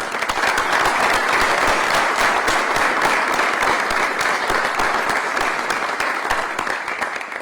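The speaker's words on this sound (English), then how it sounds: "I'd like y'all to give Kevin a round of applause." At a Florida governor's press conference on funding for first responders, the room breaks into steady, full applause that holds for several seconds and thins slightly near the end.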